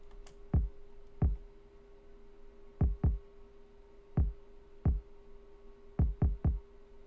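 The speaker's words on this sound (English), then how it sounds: "The sound that I use for it is actually this wheezy kick." Soft, breathy kick drum hits in a loose, syncopated pattern, low thumps with a faint airy tail, alone over a steady low hum.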